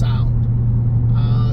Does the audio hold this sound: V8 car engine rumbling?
yes